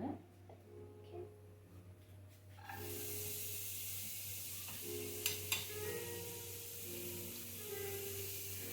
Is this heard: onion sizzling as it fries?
yes